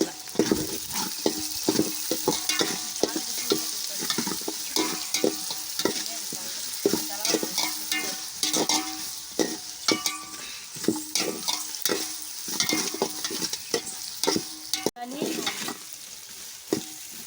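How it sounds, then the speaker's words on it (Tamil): Ginger and garlic sauté in a pan for chicken biryani, a loud, continuous sizzle broken by steady, rhythmic stirring scrapes, close up, with no one speaking. "இஞ்சியும் பூண்டையும் போட்டேன் நல்லா வணக்கி"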